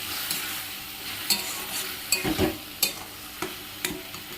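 Spice masala with green chilli, Kashmiri chilli, turmeric and salt frying in a pan for mutton curry, a continuous sizzle broken by several sharp scraping stirs close by.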